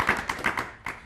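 A handful of sharp handclaps from a small studio audience on a talent show, a few separate claps in quick succession, close and fairly loud.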